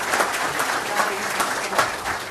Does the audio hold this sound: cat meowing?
no